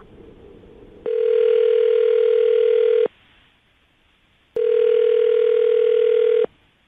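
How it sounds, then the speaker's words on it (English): Telephone dial tone sounding in two steady, loud two-second bursts separated by a quiet gap, with no talking. "I'm going to dial the phone number right now and get her on the phone"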